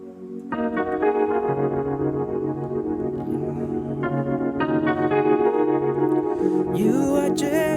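Worship music played on a low-budget keyboard with a rotary DSP effect, sustained chords and melody shifting through several changes, ending with a sliding swirl, no voices.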